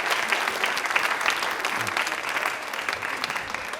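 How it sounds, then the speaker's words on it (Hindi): Studio audience applauds warmly for Premlata on a Rajasthani TV quiz show, a steady, dense clapping that stays loud and even throughout without pause. "एक बार तालियां इनके लिए जोरदार हो जाए प्रेमलता जी के लिए"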